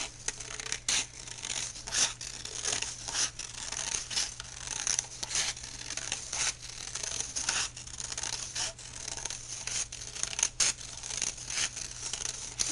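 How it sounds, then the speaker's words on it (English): Close, continuous snipping and rustling of scissors cutting paper, with a steady low hum underneath and quick crisp cuts throughout. "Now you could cut these in a wavy motion or use some decorative scissors."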